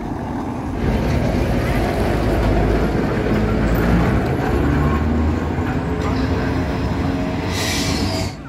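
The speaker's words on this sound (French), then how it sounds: "nous avons le vieux tramway qui est en train d'arriver ici" A vintage electric tram in Porto arrives with a steady loud rumble of wheels on the rails and street noise. The sound continues throughout and fades slightly near the end.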